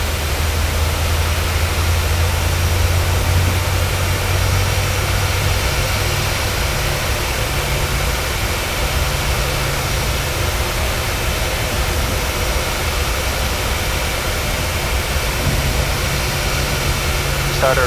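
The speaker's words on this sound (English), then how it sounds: "We have a good engine start." Jet engine of a PMDG 737-800 running just after start in Microsoft Flight Simulator 2020, a loud, steady broadband roar with a low hum that fades partway through, continuous for the whole stretch.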